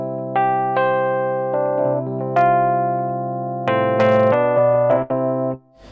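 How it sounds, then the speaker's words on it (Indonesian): Electric piano voice on a Roland RD-88 stage keyboard, a few sustained chords and single notes played with clear bell-like attacks, close and alone, fading out at the end. "Electric piano, berikutnya clavinova."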